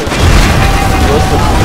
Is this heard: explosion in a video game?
yes